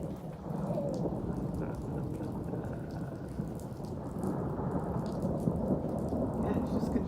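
Heavy rain pours steadily through a thunderstorm over Chico, California, a dense hissing wash with low rumbling thunder rolling underneath throughout, loud and continuous with no talk.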